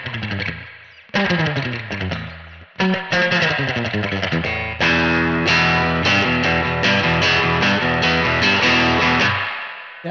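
An electric guitar played through a TC Electronic Ampworx Combo Deluxe 65 preamp with reverb rings out in chords and picked notes, short phrases separated by brief gaps, with sustained ringing tails at a steady, fairly loud level.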